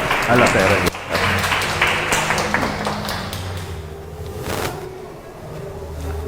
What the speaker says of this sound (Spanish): Yo quiero dar la bienvenida y un fuerte aplauso